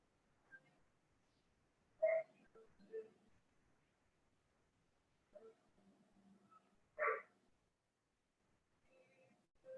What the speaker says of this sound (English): Sorry if you can hear my dog barking, he's in the kennel.